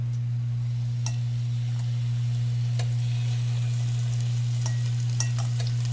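Marinated pork sears in a hot pan, a faint, steady crackle and sizzle with a few sharper pops, sitting under a loud, constant low electrical hum.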